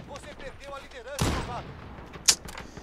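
Gunfire in Call of Duty Modern Warfare (2019), one loud burst of game shots followed by a sharp crack, with a voice speaking over the start.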